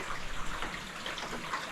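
Rainwater drips and patters beneath a vinyl pergola roof during active rain, a steady, close, soft wet spatter with no talk over it.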